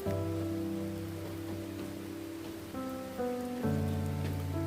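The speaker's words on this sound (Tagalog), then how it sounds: "Oh, lakas ng ulan ah." Steady rain falls on a surface, a continuous broadband wash with a low tonal hum underneath, fairly close and unbroken throughout.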